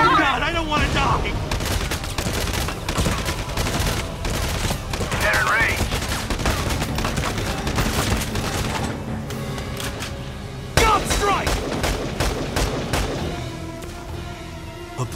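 Battle gunfire in the tactical game Valkyria Chronicles 4: dense, continuous volleys of shots and bursts with occasional heavier blasts, loud and busy throughout, with voices shouting over the fighting.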